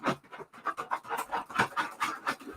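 A dog pants in quick, steady bursts close by, with rhythmic scratching mixed in, repeating through the stretch without any talk.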